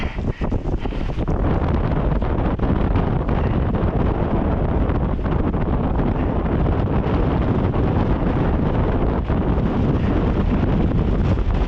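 Fierce ground-blizzard wind roars continuously and loudly against a Hilleberg Jannu four-season tent at night, buffeting the microphone with a dense, unbroken rush that never lets up.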